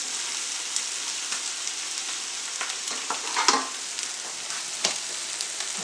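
Eggs with machaca sizzling in a frying pan, a steady close crackle broken by scraping and stirring strokes from a utensil, with no talk.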